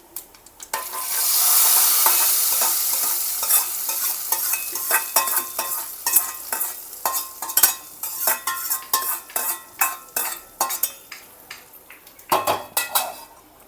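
A tempering of mustard seeds and chillies is stirred into a pot of kootu, with a loud sizzle at first, then a steady run of metal spoon scrapes and clinks against the pan.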